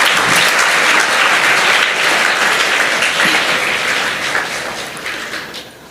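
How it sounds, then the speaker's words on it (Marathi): Audience clapping to welcome a speaker at a motivational talk, a dense, steady burst of loud applause from a large crowd that holds for several seconds before slowly tapering off. "साहेबांचं जरा टाळ्या वाजून सगळेजण स्वागत करावं"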